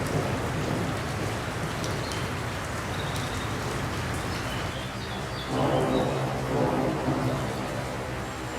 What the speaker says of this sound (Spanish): Con la lluvia.